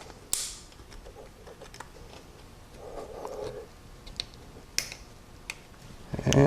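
A slightly larger low-reverse snap ring is pressed by thumb and screwdriver into its groove inside a transmission. It gives a few quiet, sharp metallic clicks and light scrapes, scattered and close up, with a louder knock at the end.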